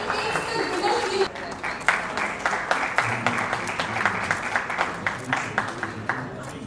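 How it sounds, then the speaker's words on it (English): An audience at an entrepreneurship conclave claps for an award winner, giving a sustained round of applause with distinct individual claps while a voice speaks over it. "Please clap, guys"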